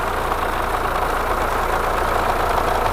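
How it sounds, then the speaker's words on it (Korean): A 2.0-litre diesel Fiat 500X Cross AWD idles steadily and close by, with an even, unbroken clatter and a constant hum and no talking. "엔진 소리 일정하네요."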